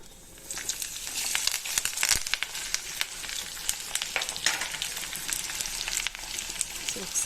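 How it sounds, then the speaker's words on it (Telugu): Onions and green chillies hitting hot oil with bay leaves and whole spices for a potato curry, a loud crackling sizzle with bursts of stirring and scraping, close and continuous. "కొంచెం అలా వేగగానే ఆనియన్స్, పచ్చిమిర్చి ముక్కలు వేసుకోవాలి."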